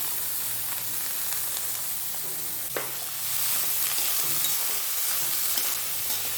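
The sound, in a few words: onions frying in oil in a kadai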